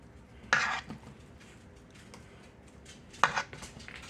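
Cornbread dressing spooned into a baking dish, two distinct wet clattering scoops of spoon against dish about three seconds apart, close and fairly quiet, with soft kitchen handling between.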